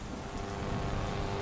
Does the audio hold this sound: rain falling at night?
yes